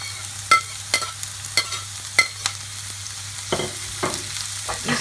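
Carrots and bell peppers sauté over a high flame with ginger and garlic, a soft background sizzle broken by repeated sharp scrapes and clacks of a spatula stirring the pan.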